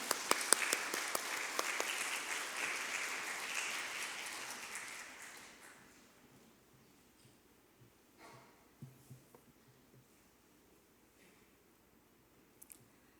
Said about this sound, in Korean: 박수로 한번 모시도록 하겠습니다